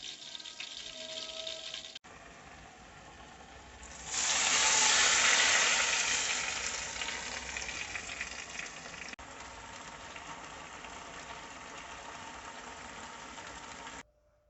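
Hot oil tempering for Lahori butt karahi hisses and sizzles loudly for a few seconds, swelling then easing into a quieter crackle under a low background hum.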